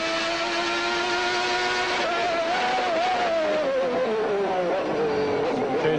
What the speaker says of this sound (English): Changing down pretty early there, getting a lot of revs on the engine